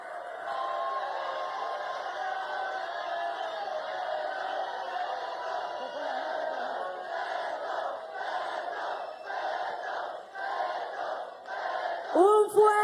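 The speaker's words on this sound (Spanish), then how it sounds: "Un fuerte aplauso para nuestro presidente que hoy visita nuestra ciudad musical, la ciudad de Ibagué" A large outdoor crowd in Ibagué roars and chants continuously for President Gustavo Petro's arrival, a dense sustained mass of voices at steady loudness, heard from within the throng with a brief sharper burst near the end.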